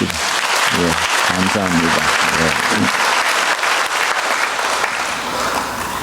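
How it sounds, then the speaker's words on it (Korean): A church congregation at a Korean Sunday service breaks into loud applause to approve a motion, while someone speaks briefly over the clapping at the start before it continues alone. "우리 박수로 통과합시다"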